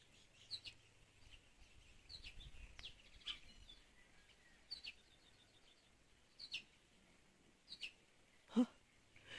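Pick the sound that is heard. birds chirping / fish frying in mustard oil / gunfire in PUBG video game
birds chirping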